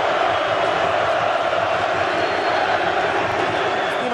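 Football fans in the stands cheer and applaud a Bulgarian league player, a dense, steady roar of crowd noise that holds unbroken from start to finish.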